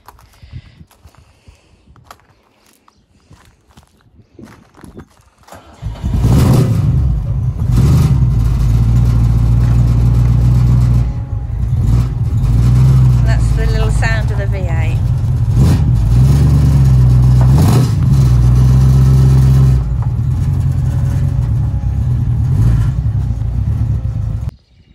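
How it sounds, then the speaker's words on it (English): A 1934 hot rod's engine starts after a quiet opening and then runs loud and steady as the car is driven into a garage, with a few revs and rumbling swells near the microphone. "We're now going to put the car away in the garage while the sun's shining."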